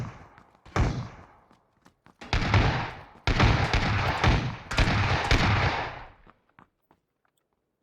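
Gunfire in the video game PUBG, with several sustained bursts of rapid shooting separated by brief pauses, loud and close, with no talking over it.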